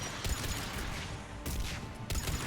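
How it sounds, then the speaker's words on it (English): Sustained gunfire in the Mass Effect 3 video game: a dense, loud barrage of rapid shots, broken by two short gaps before it resumes at full intensity. "I'm getting shot up here"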